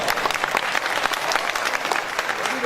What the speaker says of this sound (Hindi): तालियां कम आई, ज्यादा आनी चाहिए।